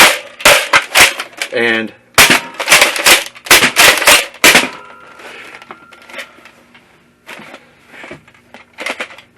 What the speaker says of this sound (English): here I am loading up a few shots of the Whirlwinds into the Centurion magazine